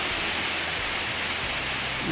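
Heavy rain pours down steadily outside a house in Baguio in December, a dense, constant hiss that fills the whole stretch with no break or change in intensity.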